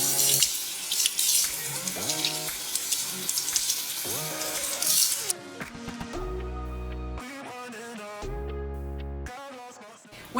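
Tap water runs into a kitchen sink while bar clams (quahaugs) are rinsed and scrubbed, a steady hiss of flow for the first half, then quieter splashing with tonal clinks and a low humming drone.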